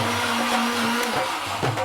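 A mixer grinder in a home kitchen runs at full speed in a Malayalam sitcom scene. It gives a steady, loud motor whir with a humming tone, dips briefly near the end, then picks back up.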